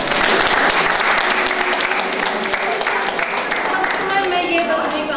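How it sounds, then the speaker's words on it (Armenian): Audience applause at a children's awards ceremony, dense sustained clapping from a large crowd filling the room, with voices faintly mixed in. "Խնդրում եմ մեր ևս մեկ անգամ ծափահարեք մեր հերոսին"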